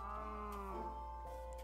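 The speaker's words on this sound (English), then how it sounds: "Oh, over here, cows." Minecraft cows in a video game give a drawn-out, tonal moo, heard close and clear for a little over a second with no voices over it.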